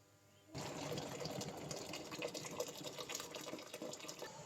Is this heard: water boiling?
yes